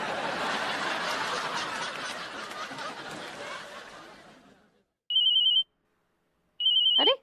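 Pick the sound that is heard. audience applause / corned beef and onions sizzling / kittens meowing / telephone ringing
telephone ringing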